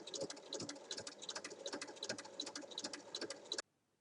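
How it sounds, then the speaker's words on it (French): Sewing machine topstitching along both sides of a zipper on a small fabric pouch made from scraps, with a steady rapid mechanical stitching rhythm running close and continuous before stopping abruptly. "On va maintenant faire une surpiqûre de chaque côté de la fermeture à glissière."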